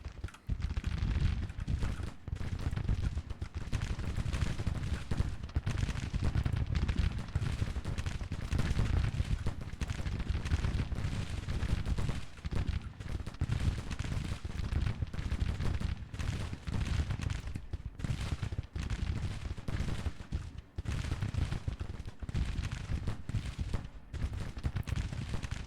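Continuous battlefield gunfire from the Grand Tactician: The Civil War strategy game, a dense roll of rifle volleys and artillery booms that carries on steadily without pause, loud and full throughout.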